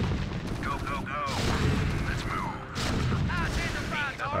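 Siege tanks firing in the real-time strategy game StarCraft, a dense barrage of booming shots and explosions layered with whining unit effects, continuous and loud, with someone talking over the gunfire.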